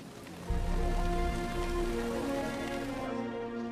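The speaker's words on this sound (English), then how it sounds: "There was constant tropical rain." Steady tropical rain in the jungle patters and hisses continuously on surfaces, loud and close, starting abruptly after a quieter moment and holding at an even level.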